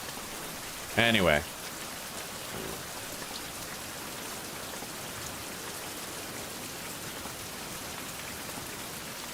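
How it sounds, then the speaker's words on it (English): Steady rain falling in the video game Survival: Fountain of Youth, an even hiss of drops continuing throughout, with someone briefly speaking near the start. "It must just be that in the early game, they throw a lot of rain at you."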